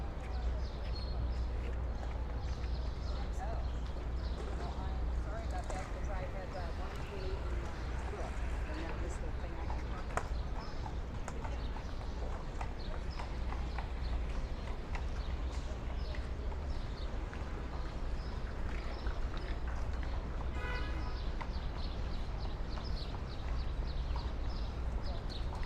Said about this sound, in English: These are some of the many horses inside Central Park that carriage people around.